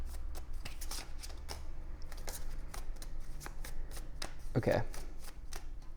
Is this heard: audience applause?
no